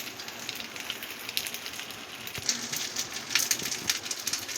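Bhetki fish wrapped in banana leaf fries in mustard sauce under a lid, giving soft, steady sizzling with scattered crackles and pops.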